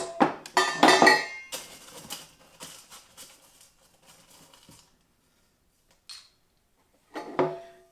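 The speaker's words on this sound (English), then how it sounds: "I'm going to top up with tonic, throw in a bit more ice" Ice cubes clinking into a glass of gin and tonic: a burst of bright clatters at the start, scattered lighter clinks, then silence broken by two short knocks near the end.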